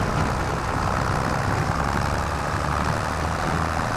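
Tractor engine running steadily in Farming Simulator 25 in the Carpathian countryside, a dense continuous low rumble with a broad hiss on top, holding an even loudness throughout with no talk.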